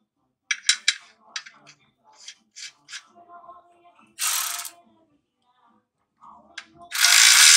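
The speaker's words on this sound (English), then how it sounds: "we're gonna go ahead and tighten down our plug" A hand ratchet tightening the differential drain plug on a Chevrolet Silverado 3500HD, giving short bursts of clicking pawl strokes, close and clear with silent gaps, plus two louder hissing rasps.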